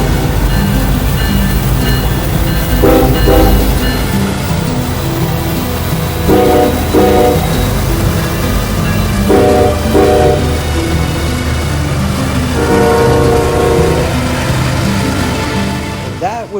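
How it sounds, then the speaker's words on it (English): Loud, heavy BNSF diesel locomotives notching up to full throttle to restart a massive coal train, rumbling and droning steadily close by, engines working hard, with repeated horn-like tonal bursts over the roar, at night in Crowley, Texas. "notching all the way into 8 to get this massive coal train back moving"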